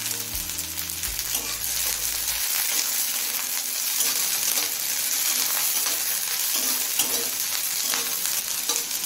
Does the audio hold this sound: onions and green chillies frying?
yes